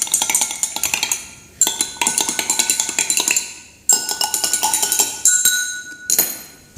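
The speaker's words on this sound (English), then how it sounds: "Okay, we're going to give that a stir." A metal spoon stirs water briskly inside a glass, producing rapid, bright clinking taps in quick bursts with brief pauses, loud and close with lingering glassy ring.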